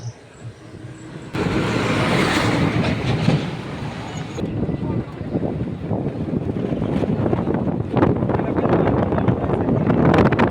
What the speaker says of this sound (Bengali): এই মুহূর্তে ট্রেনটি চলে গেল